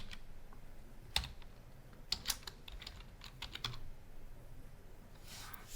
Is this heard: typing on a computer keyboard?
yes